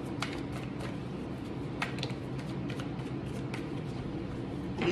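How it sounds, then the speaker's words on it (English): Tarot cards are shuffled close up, soft papery flicks and riffles recurring irregularly over a low steady background hum. "I just shuffled again."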